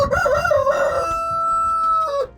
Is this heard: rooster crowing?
yes